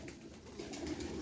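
Young racing pigeons give a soft, low cooing burble, brief and close, over faint background noise.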